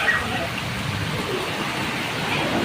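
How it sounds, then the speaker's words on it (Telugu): Heavy evening rain pours down steadily, a dense, continuous wash of hiss and patter that stays loud and even throughout with no breaks. "వర్షం అయితే ఫుల్ పడుతుంది."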